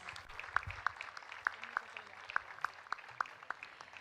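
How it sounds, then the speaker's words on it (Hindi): Faint, sparse clapping from an audience at a Ganga Aarti gathering on the riverbank at Parmarth Niketan, with distinct hand claps at a slow, irregular pace over a low background murmur. "Give them a very, very big round of applause."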